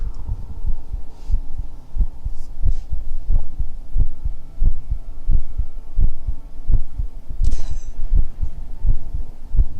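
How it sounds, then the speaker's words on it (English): Soft, rhythmic heartbeat thumps pulse steadily and close for about ten seconds under a low hum, with faint brief rustles and no talking. "I need to get started with heartbeats"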